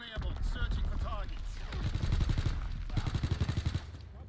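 Call of Duty WW2 gameplay with rapid gunfire and a dense burst of mortar explosions, muffled thuds pounding in quick succession, mixed with in-game voice chatter.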